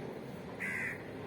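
A single drawn-out crow caw rises above steady low background noise, heard once near the middle and fairly close.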